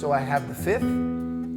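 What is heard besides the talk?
No everyday noises stand out.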